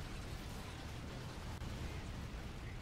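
In the Toy Soldiers video game, a wagon destroyed by turret fire explodes in a loud, sustained rumbling blast. The roar fills the whole moment with steady, broadband noise and no talk.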